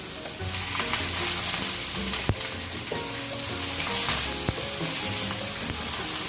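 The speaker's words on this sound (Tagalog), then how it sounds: "And then now i-add ko po yung aking hipon." Shrimp for ginataang hipon with squash hit a hot pan and fry with a loud, continuous sizzle, while stirring clatters and one sharp knock come through up close, with no voices.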